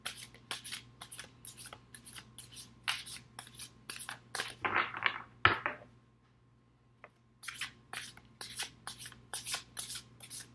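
A deck of reading cards is shuffled with quick, soft riffling bursts close to the mic. A brief pause follows, then the shuffling resumes at a quiet level with no speech.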